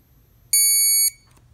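A Series dual diamond tester gives one clear, steady high-pitched electronic beep lasting about half a second, close, in an otherwise quiet setting.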